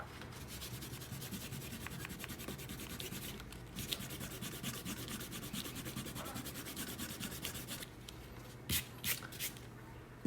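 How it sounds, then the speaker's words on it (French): An eraser rubs out pencil construction lines on a drawing of a pickaxe, a close, rapid back-and-forth scrubbing on paper in quick rhythmic bursts, ending with a few separate strokes and brief pauses. "on peut gommer nos traits de construction au crayon"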